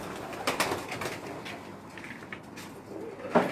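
Pigeon cooing after a pigeon is released by a pigeon keeper, with soft bird calls and rustling, ending in a brief louder coo.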